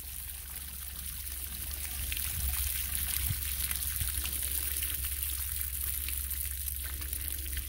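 Water drains out of a bucket of melted beeswax being cleaned, a continuous pouring and trickling stream that grows slightly louder partway through and keeps running steadily, close by and with no talk.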